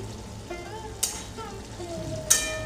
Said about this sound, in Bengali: আলুটা তো একটু ভাজা ভাজা হবে